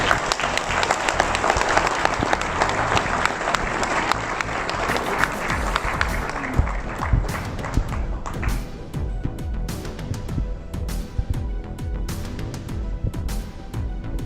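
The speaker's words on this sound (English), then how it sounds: "big applause." A large audience at a business summit in Dubai applauds steadily and loudly, the clapping thinning into scattered individual claps toward the end.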